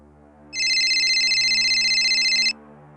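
A phone rings loudly on an outgoing call to dad, with a steady electronic ringtone pattern lasting about two seconds and then cutting off abruptly over a low background hum.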